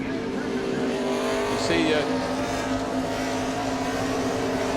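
NASCAR stock car engines at the 2006 Save Mart 350 road race at Infineon, a loud sustained roar with a gear change midway and a brief tire squeal, heard under commentators talking.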